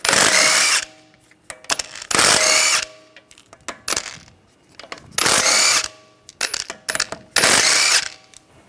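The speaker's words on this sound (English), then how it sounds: "take the lug bolts out" On a 2009-2013 BMW 328i, a power tool with a 17mm socket spins the wheel lug bolts out in four loud, close bursts of whirring, each under a second, with clinks and rattles in the pauses.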